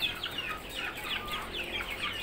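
Indio Gigante chickens, including large two-month-old birds, clucking steadily on a farm, with several overlapping calls forming a continuous busy chatter and no talking.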